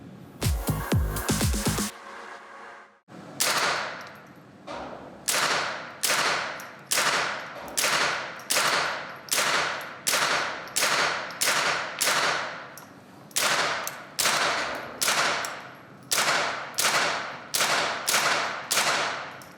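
Gunfire from target shooting, a rapid burst of shots followed by a long series of loud, evenly spaced single reports, each with a sharp crack and a short decay.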